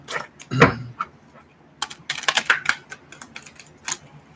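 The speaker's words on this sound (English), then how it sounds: "shuffling the cards here" A deck of tarot cards is shuffled in short bursts of crisp riffling and tapping, close by, with one sharp knock early and then a quick flurry of flicks.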